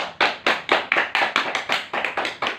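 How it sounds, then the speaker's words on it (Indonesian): A single pair of hands claps in a steady, even rhythm about four times a second in a classroom, each clap crisp and close, praising a young pupil who led the class prayer. "Tepuk tangan dulu buat Irul sudah berani memimpin doa"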